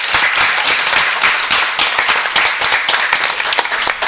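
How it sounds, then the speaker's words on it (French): Dense, loud audience applause from a crowd at a school talk show, a steady wash of many hands clapping close by with no voices over it. "On les applaudit très très très fort."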